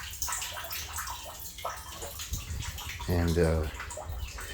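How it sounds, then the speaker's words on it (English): Water drains from a pipe into the last container of a recycled fish-water garden setup, splashing and gurgling steadily at close range while someone talks over it. "when this one fills up, well, then the water drains down here into this last setup"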